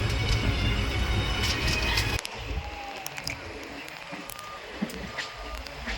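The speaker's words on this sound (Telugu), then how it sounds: "ఇక ఈ ట్రైన్ అయితే గుంటూరు స్టేషన్ నుంచి స్టార్ట్ అయిందండి" A passenger train pulling out of Guntur station rumbles loudly and steadily on the rails, then drops to a quieter, hollow running noise with faint high squeals and scattered clicks.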